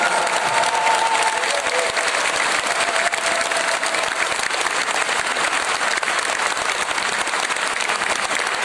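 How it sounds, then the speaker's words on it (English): Sustained applause from a congress audience in Warsaw fills a large hall with dense, steady clapping at even loudness throughout, with no voices above it. "I would ask you for additional dose of applause"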